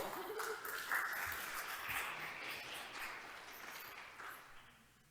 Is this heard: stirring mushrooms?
no